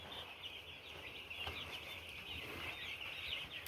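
Young chicks in a poultry shed cluck and cheep faintly and continuously, with no talking.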